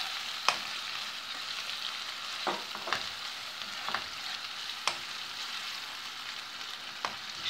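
Tomato is added to tuna frying in a pan for pasta sauce: a steady, even sizzle with a few sharp utensil clicks at scattered moments, and no speech.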